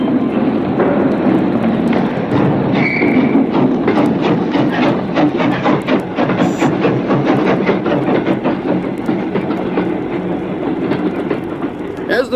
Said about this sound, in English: As the train sped out of Paddington